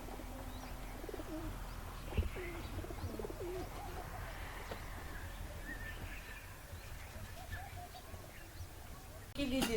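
Pigeons cooing outdoors at a farm plot on a cool morning, soft low coos and a few chirps scattered through steady background noise, with faint voices.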